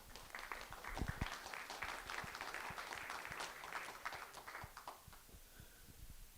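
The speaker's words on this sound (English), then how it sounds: "How about a round of applause?" A small audience at a conservation lecture gives a faint round of applause, scattered individual claps standing out within a soft patter that thins toward the end.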